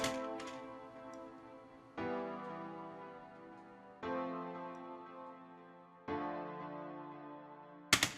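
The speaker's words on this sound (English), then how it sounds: "your vanilla version of this chord progression is going to sound like this." Four basic piano triads struck one after another, each about two seconds apart and left to ring and fade, forming a slow, simple progression.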